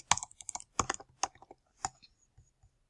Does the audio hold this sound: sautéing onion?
no